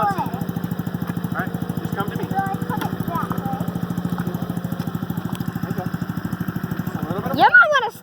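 A small dirt bike engine putters steadily at low revs as a young girl rides, a close, rapid pulsing drone, then briefly revs louder at the end while people talk over it.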